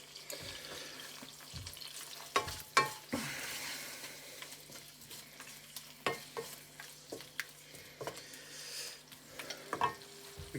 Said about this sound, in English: Okay, that's back up and sizzling, so these in